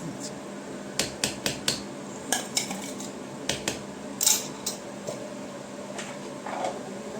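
A lidded glass pickle jar is shaken, its contents knocking against the glass in a quick run of sharp clinks, then a few more scattered rattles, with light talk in the background.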